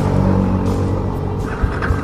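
A motorbike engine runs steadily with a low rumbling idle and a loud, near throttle rev at the start of a ride in Chitwan, Nepal, continuous throughout with slight surges toward the end.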